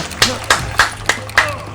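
Five sharp hand claps at an even, quick rhythm, close and fairly loud, with a voice briefly audible around them.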